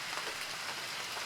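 Steady rain comes down outdoors during a Texas bow hunt, a continuous, even hiss of drops spread across the whole moment with no voices.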